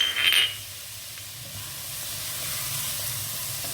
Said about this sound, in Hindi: सब चीज़ों को मिक्स कर लेते हैं।